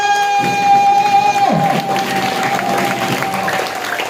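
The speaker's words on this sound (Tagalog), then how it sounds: "Kailangan malakas ang palakpak." Loud classroom applause from students in a class session, rising quickly and continuing as a dense clatter of claps with some voices and cheering mixed in, while a steady electronic tone hums underneath.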